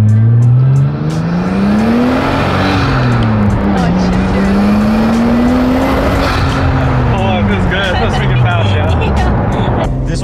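A Nissan Skyline R34 accelerates hard under turbo boost, its engine note rising and falling through gear changes in a loud, continuous roar heard from inside the car, with tire and road noise underneath.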